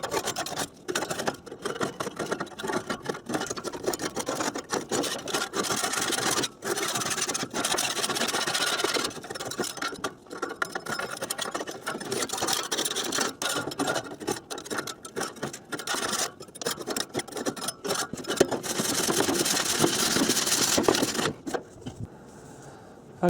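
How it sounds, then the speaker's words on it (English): A tool rasps and scrapes repeatedly across cast iron grates from a Weber Genesis barbecue grill in a dense, continuous run of gritty strokes close up, with only brief gaps before it stops near the end. "So basically I will run through and scrape all of these"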